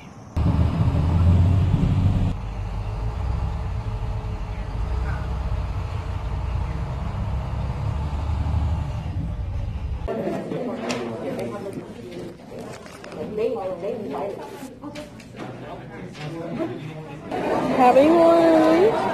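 Riding inside a school bus, a low engine rumble and road noise under chatter and talking voices, with the drone shifting as the bus moves and rattles nearby.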